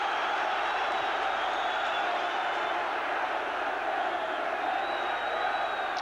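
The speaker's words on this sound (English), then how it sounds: "Just listen to this crowd now." Football stadium crowd at a Chelsea v Liverpool FA Cup match, a dense sustained roar from a large mass of fans with chanting tones rising through it, loud and continuous throughout.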